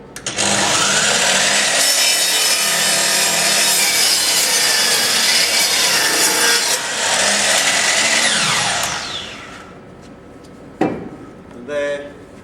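A compound mitre saw makes a bevel cut through wood, its loud, close motor whine and blade cutting holding steady for about eight seconds before spinning down, followed by a clunk and brief rattle.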